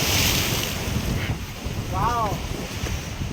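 Ocean waves roll and wash ashore at Arjyapalli beach in Odisha, a loud, continuous roar mixed with heavy wind buffeting the microphone, with faint voices briefly heard.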